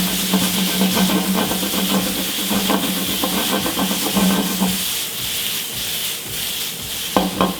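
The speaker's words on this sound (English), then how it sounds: "This pan's already been warmed up, so I'm going to slide the potatoes on there." Potatoes sizzling in a hot, pre-warmed sauté pan with olive oil on a gas burner, a loud, steady close hiss with scraping stir strokes that eases briefly before flaring again.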